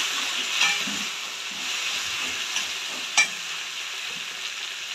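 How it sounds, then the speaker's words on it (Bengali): Chopped tomatoes fry in a pan with ginger for Bengali dhokar dalna. A continuous soft sizzle runs under a couple of sharp stirring scrapes, close by, with no talking. "এবার আমি এর মধ্যে কুচনো টমেটো দিয়ে দেবো।"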